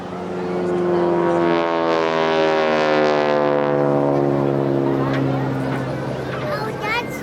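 A genuine 1942 WW2 Harvard training aircraft at a Blackpool airshow gives a loud, sustained propeller engine drone with a steady droning pitch that slowly falls away, under ongoing commentary.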